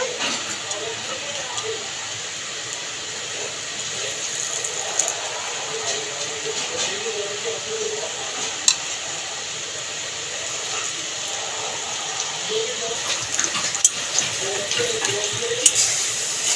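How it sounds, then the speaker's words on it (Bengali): Fish roe fritters frying in hot oil give off a steady, moderate sizzle and hiss over the full stretch, with a few faint clinks and light stirring noises. "লাল লাল করে মাছের ডিমের বড়াগুলো ভাজা হয়ে গেছে"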